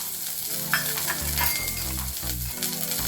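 Green beans, carrots and peas sautéing in a spoonful of oil, crackling and sizzling loudly and close, with a few scrapes and clinks of a spatula stirring the pan.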